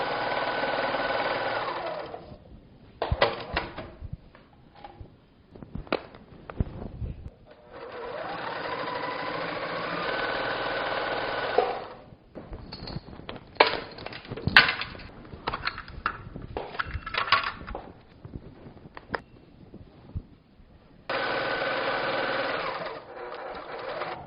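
A quilting machine stitching a row on a Q Zone hoop frame, its loud mechanical whir running in long bursts broken by pauses and handling clunks, with no speech.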